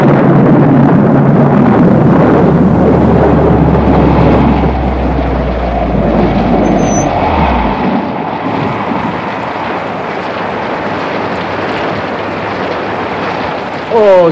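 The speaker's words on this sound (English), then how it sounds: "I think we are in for a storm." Animated-series storm: a loud, sustained low rumble of thunder rolls for about seven seconds and then cuts off, leaving steady wind-like noise, with a brief rising sweep right at the end.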